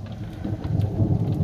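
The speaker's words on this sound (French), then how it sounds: "Et aujourd'hui, ça la pluie et l'orage." Rain and a thunderstorm during a nomadic road trip, steady pattering rain with a low rumble of thunder building gradually underneath.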